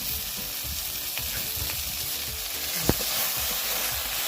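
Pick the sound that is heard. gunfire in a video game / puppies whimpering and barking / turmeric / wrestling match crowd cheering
turmeric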